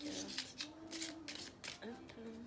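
Tarot-style cards drawn and shuffled by hand, several quick papery swishes and flicks in an irregular rhythm, close and soft, under someone speaking French quietly throughout.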